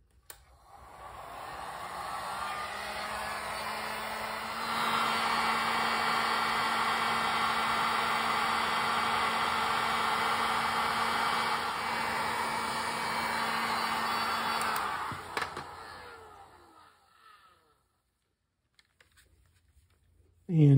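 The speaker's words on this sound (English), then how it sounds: "Let me get the heat gun out." A heat gun blows steadily on a PETG plastic sheet laid over a center form for thermoforming a reproduction radio dial cover. The airflow is a broad, even hiss that grows louder partway through, holds for about ten seconds, then cuts off and dies away.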